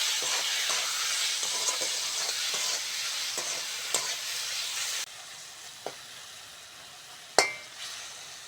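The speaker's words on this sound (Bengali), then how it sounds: "আদা রসুন বাটাটা দিয়ে দেবো সঙ্গে দেবো হলুদ লবণ মশলাগুলো ভালো করে ভেজে নেবো" Onion, green chili, tomato, ginger-garlic paste, turmeric, salt and spices fry in a pan for a mixed dal, with a steady loud sizzle and scattered stirring scrapes; the sizzle drops sharply partway, then a single sharp clatter rings out.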